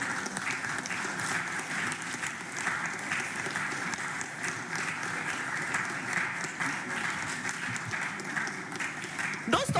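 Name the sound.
audience applause and cheering at a school speaking competition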